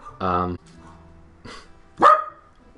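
A pet dog indoors barks twice, a sharp near bark at the start and another a moment later, with quiet room sound between.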